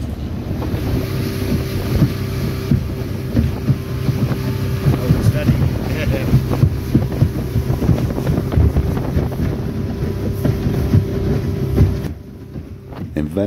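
A fast motorboat, a Venezuelan lancha, speeds over the sea near Tucacas, its engine roaring steadily and close with heavy wind buffeting and water rush throughout, easing slightly near the end.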